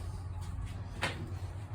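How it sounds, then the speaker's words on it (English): An old wooden screen door at a restored 1805 Ohio country farmhouse swings open with a soft creak and a brief sharp rattle of the frame, set against a steady low background hum. "And open the screen door"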